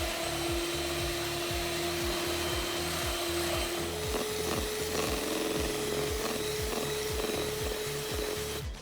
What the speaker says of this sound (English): Give that another whisk for around a minute.